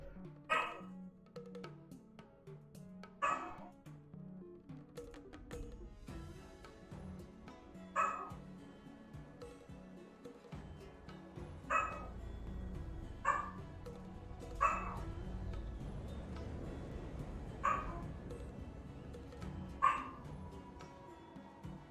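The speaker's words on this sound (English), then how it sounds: "apologize if you can hear my dog." An unhappy dog barking in another room, muffled and faint, giving single sharp barks every two to three seconds over a quiet background.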